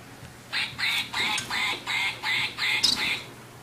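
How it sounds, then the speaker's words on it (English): A squeaky toy duck is pressed seven times in a steady rhythm, each squeeze giving a short nasal squeak, close and soft, with a faint low hum beneath. "Watch what happens if you press this little duck."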